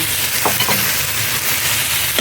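Eggplant goes into a simmering pot of sinigang, a steady bubbling hiss with stirring and light scraping against the pot, close up, no one talking.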